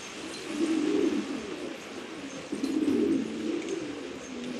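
Pigeons on a rooftop coo in low, soft warbling phrases, two main bouts rising and fading over a steady background hiss, fairly close and without speech.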